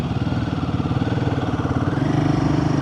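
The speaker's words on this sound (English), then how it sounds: "I was a bit low in the revs there at 2nd gear, but it managed to pull away just fine." Royal Enfield Himalayan 450 motorcycle pulling away in second gear at low revs, its engine pulsing close and loud with a steady throbbing beat that firms up slightly toward the end.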